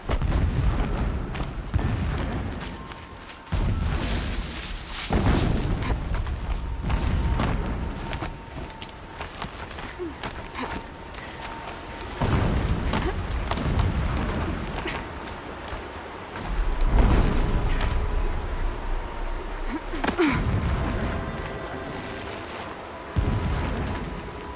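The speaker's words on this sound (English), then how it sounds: "Explosions in the distance." Distant explosions in the video game Horizon Zero Dawn: repeated low booms and rumbling blasts scattered irregularly over a continuous noisy background, moderately loud without talk.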